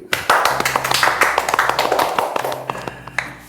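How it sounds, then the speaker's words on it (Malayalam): A small group claps in a quick, uneven burst of sharp hand claps that stays close and fairly loud, with no talking over it. "കൈയടിക്കൂ."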